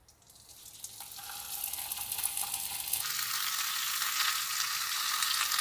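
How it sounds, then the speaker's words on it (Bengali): Fish placed into oil in a wok over a medium gas flame, a sizzle that starts soft and swells into a steady, bright crackling frying hiss, fairly quiet and close, with no talking. "এবার আমি মাছগুলো বসিয়ে দেবো।"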